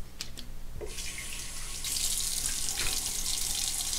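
Hot and then cold tap water runs steadily into a sink while someone rinses off after a shave, a close, continuous rushing stream that swells louder partway through.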